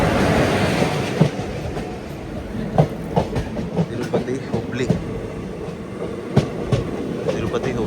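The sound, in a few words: train passing on railway tracks near Renigunta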